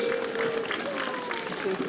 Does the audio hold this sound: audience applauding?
yes